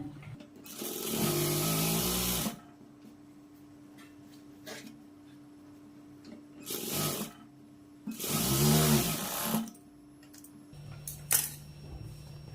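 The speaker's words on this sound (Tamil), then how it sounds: "மறுபடியும் மேலே வந்து ஒரு அரை இன்ச் அளவுக்கு தையல் போட்டுக்குங்க" Sewing machine stitching blouse cloth in two bursts, a longer run near the start and another in the middle, steady whirring with brief quiet gaps and a short clack between.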